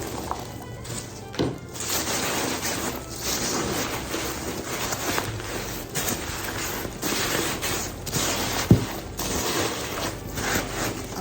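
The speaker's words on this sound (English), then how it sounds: "I'll stick some more packing peanuts down there" Packing peanuts poured and pushed into a shipping box for a fragile item, giving continuous crinkly rustling and squeaky foam shuffling up close, with a few sharper knocks and one brief thump.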